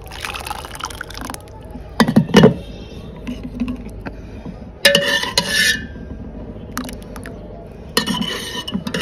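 A spoon stirs and scrapes a sabudana papad mixture in a metal pot, giving intermittent clinks and knocks in short bursts with gaps between, close and fairly loud.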